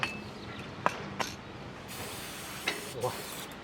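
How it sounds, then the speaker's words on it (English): Short hissing bursts of aerosol lubricant sprayed onto a bicycle chain in quick pulses, mixed with light mechanical clicks and rattles of the chain being turned. "And just spray it on the chain"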